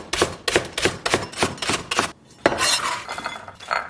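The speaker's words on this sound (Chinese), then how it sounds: "咱们把葱给它切成斜刀片" A knife chops scallions diagonally on a cutting board in a steady run of about eight sharp, close knocks, followed by a denser burst of cutting and clatter.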